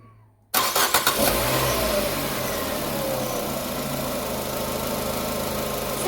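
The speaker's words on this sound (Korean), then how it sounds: "시동을 걸어볼게요." A Renault Samsung SM7 fitted with a newly replaced oxygen sensor cranks briefly with a few quick starter bursts, then catches and settles into a steady, smooth idle, loud and close with no talking.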